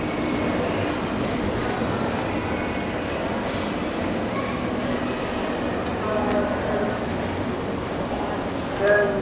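A shopping centre lift in Bromley climbing straight up, a steady broadband rumble and hum of the moving car filling the space with a small bump at the end, faint voices underneath.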